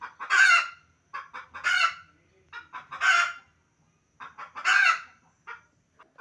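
Chickens on a flock of about a hundred birds cluck and crow loudly in repeated bursts, with short pauses between calls and no talking.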